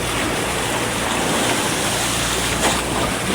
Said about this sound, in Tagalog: Medyo maalon-alon ha.